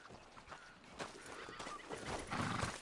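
Horse from Red Dead Redemption 2 whinnying, with hoof clip-clops, close and fairly loud against faint background ambience.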